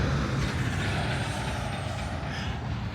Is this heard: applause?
no